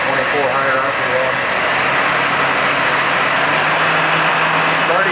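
A Mori Seiki NL2500MC CNC lathe spindle runs at 2400 RPM, giving a continuous, even mechanical whir with a steady hum throughout at close range.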